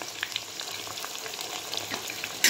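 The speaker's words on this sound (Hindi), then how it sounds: "अदरक का पेस्ट ऐड करने के बाद मैं गोश्त को अच्छे से करूँगी इसमें फ्राई" Half a kilo of mutton frying in hot oil with ginger and garlic paste for a milky mutton karahi, a steady close crackling sizzle with stirring, no talk.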